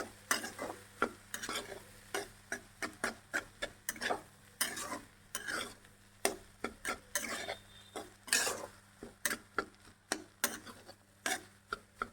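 Cooked white rice added to a pan for egg fried rice and stirred, a rapid run of scraping and clattering spatula strokes over a low sizzle, close and busy with no voices.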